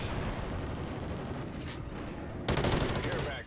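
Gunfire in Call of Duty: Ghosts: dense, rapid automatic shots roll continuously, then a louder, harsher burst hits near the end.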